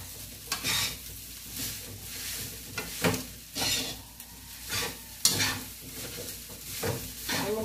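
Garlic fried rice (sinangag) sizzles steadily in a pan while a spatula scrapes and stirs it in repeated bursts, close and fairly loud, with no voices.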